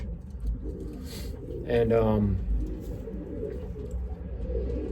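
A racing pigeon with a black leg band coos once in a soft, rounded burst, close by, while someone talks over it.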